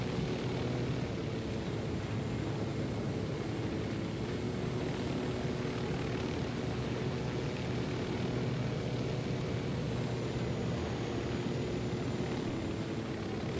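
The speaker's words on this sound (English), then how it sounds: "Chopper doesn't have guns on it either." Video game helicopter in flight, a loud continuous rotor and engine roar that holds steady and close throughout, with no talk over it.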